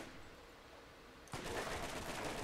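Gunfire from a gun in the PC video game Borderlands bursts in suddenly partway through, a rapid run of loud shots after a quiet stretch of game ambience.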